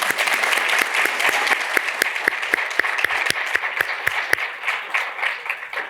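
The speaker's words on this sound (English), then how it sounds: "Let's give our panelists a round of applause." Audience members at a green economy panel event clap for the panelists, a moderate round of applause with distinct individual hand claps standing out in an uneven rhythm, tapering off toward the end.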